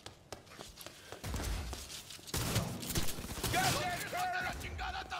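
Gunfire in the video game Cyberpunk 2077, a few sharp shots followed by a denser stretch of rattling fire and impacts, moderately loud amid game noise and chatter.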